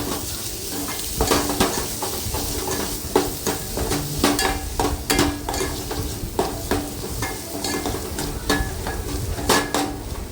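Ghati masala is stirred into egg curry in a pan: repeated scraping clicks of a spoon against metal over a continuous sizzle, with no talking.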